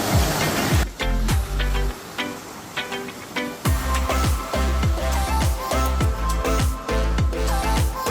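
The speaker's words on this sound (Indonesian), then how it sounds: "kita seberangi sungai dulu" River water rushes steadily close by during a mountain hike river crossing, a dense wash of flowing noise overlaid with a repeating rhythmic thumping pattern.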